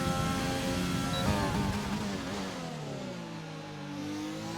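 A McLaren Formula 1 car in a racing video game at the USA Grand Prix, its engine revving hard and climbing through gears before the pitch sweeps away as it passes, loud and alone for a few seconds.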